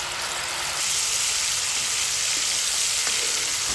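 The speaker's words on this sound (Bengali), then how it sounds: "তেলটা গরম হয়ে আসলে এর মধ্যে আমি দিয়ে দিচ্ছি তেঁতুলের সাথে মাখিয়ে" Spices mixed with tamarind frying in hot mustard oil in a pan for a sajna leaf pickle, a steady close sizzle and hiss that runs continuously throughout, with no talking.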